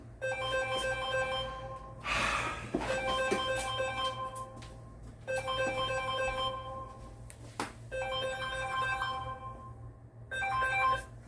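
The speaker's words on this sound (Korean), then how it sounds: "아, 전화가." A phone ringtone plays a repeating melodic tune in bursts separated by short pauses, fairly loud and close, with no talking over it.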